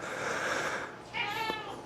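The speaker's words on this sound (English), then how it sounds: "Oh my God, Strange Cat is back again." A cat meows once near the end, short and fairly close, after a stretch of steady whooshing noise.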